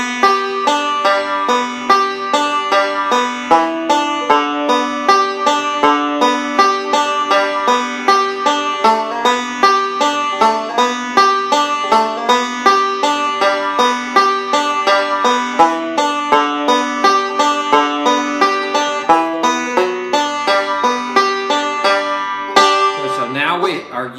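Banjo picking the tune Shady Grove in an alternating thumb pattern, bright plucked notes in a steady rolling rhythm, close and clear, with a short voice right at the end.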